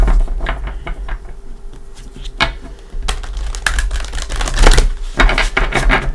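Tarot cards shuffled by hand in a series of quick riffles and papery flutters, close and fairly loud against a steady low hum, with a few sharper snaps near the end.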